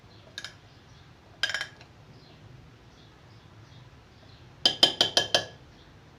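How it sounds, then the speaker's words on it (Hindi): A spoon clinks against a bowl while chana chaat is mixed, a few sharp scattered taps followed by a quick cluster of four or five clinks, close and fairly clear with no talk. "अब मैं नीचे तक इसको मिक्स कर दूँ।"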